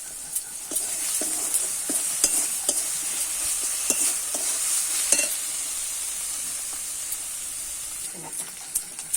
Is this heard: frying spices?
yes